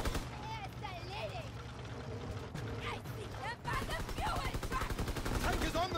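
Gunfire in the video game Call of Duty WW2, rapid machine-gun and rifle bursts crackling over rumbling tank noise, growing heavier toward the end while a player talks over it.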